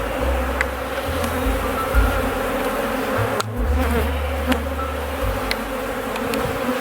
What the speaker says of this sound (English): we're gonna shake all the bees down from this top box down to the